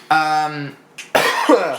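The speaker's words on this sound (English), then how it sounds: "I have a cold, so I apologize for my sniffles and coughs." A short voiced sound, then a sharp, forceful cough from a person with a cold, close and loud, with no talking.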